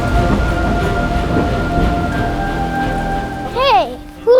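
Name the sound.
rain from a thunderstorm in Kansas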